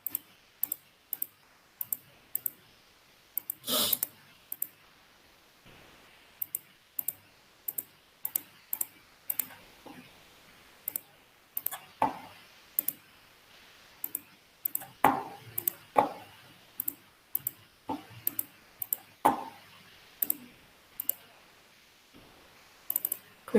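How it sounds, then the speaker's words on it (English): Computer mouse clicks sound while working in digital fashion design software, dozens of sharp, close taps in uneven bursts and pairs with soft handling noises between, no voices. "For example, I'm clicking delete right now, click"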